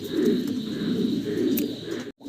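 Archangel pigeons at a farm coo softly in repeated low, rolling calls, close by and continuous before a brief cut-out at the end.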